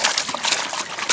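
Carpet being swished up and down and round in a bucket of water during gold sluicing cleanup, giving continuous sloshing, splashing liquid sounds close by with no talking.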